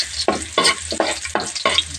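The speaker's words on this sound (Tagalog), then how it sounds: "igisa na tayo. Unahin natin bawang." Garlic sautéing in a hot pan, a steady broadband sizzle with repeated bursts of stirring and scraping roughly every half second, close and fairly loud, no voices.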